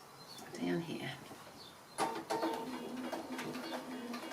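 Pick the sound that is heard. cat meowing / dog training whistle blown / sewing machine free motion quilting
sewing machine free motion quilting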